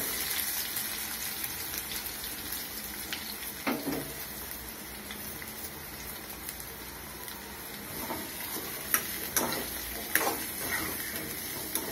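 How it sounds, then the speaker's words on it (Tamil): Chopped onions sautéing in a pan for Tamil-style tomato rice, giving a steady, moderately loud sizzle and crackle with occasional scrapes and clinks of a stirring spoon. "இப்போ வெங்காயம் வதங்கட்டும்"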